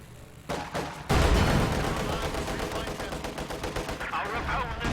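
Gunfire from a Company of Heroes 2 real-time strategy battle, with Grenadier infantry shooting at engineers. Dense, loud bursts of rifle and machine-gun fire crackle almost continuously, layered into a busy battlefield din.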